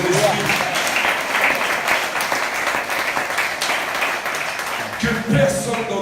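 A church congregation applauding the Lord, with sustained clapping from many hands filling the room and a voice heard over it.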